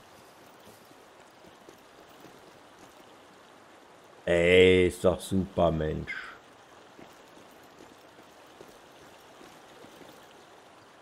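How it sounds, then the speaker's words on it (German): A waterfall in the fishing game Call of the Wild: The Angler gives a steady, even rush of falling water throughout, briefly covered midway by someone speaking German. "Hier ist auch ein Wasserfall."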